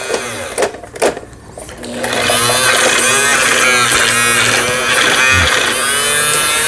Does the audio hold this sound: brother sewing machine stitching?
yes